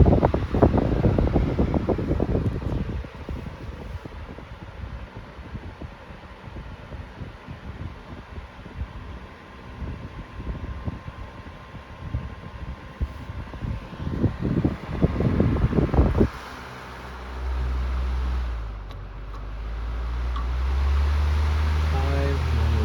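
An Airmaster 12-inch low stand floor fan (model I-12LS) runs on its low speed setting, giving a steady close airy whir with gusty rumbling buffets, then changing to a smoother lower hum near the end.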